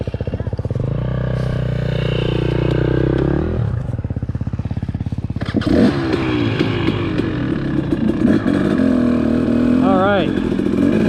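A 4-stroke dirt bike engine revs at full power nearby, its loud throaty roar climbing and wavering in pitch as the throttle is worked, with voices mixed in.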